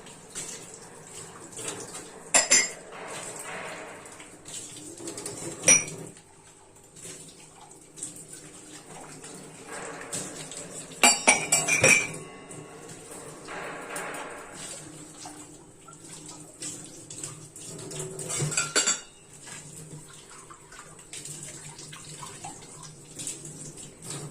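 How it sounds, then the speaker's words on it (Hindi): A cup and other dishes being washed under a running tap at a kitchen sink, with a steady water hiss broken by several sharp clinks and knocks of crockery. "तो अभी हमने एक कप धो लिए हैं।"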